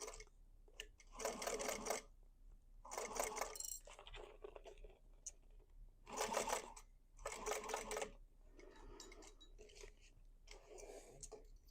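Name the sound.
sewing machine basting fabric pieces of a basket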